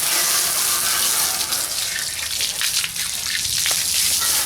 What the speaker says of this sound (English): We'll go ahead and rinse this off.